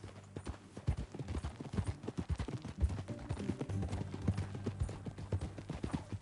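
Steady clip-clop of horse hooves at a walking pace, with a faint snort or two, beneath a low droning musical backdrop, from the video game Red Dead Redemption 2.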